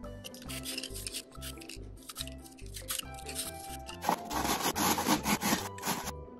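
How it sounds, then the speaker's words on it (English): A peeled apple is rubbed against a grater in rhythmic close scraping strokes, steady at first, then denser and louder toward the end, with no talk. "I'm going to take this apple, and I'm going to peel it, and I'm going to grate it"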